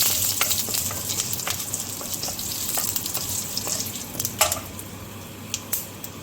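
Curry leaves crackle in hot ghee alongside mustard seeds and chilies, making a continuous soft frying hiss broken by occasional sharper spits and pops, with no voices.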